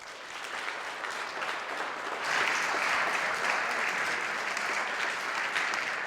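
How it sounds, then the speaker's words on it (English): A large audience at a senior breakout session gives dense, sustained applause to welcome a speaker to the stage, swelling slightly partway through and staying strong and even throughout. "please give him the awesome round of applause that he deserves and just welcome him to the stage"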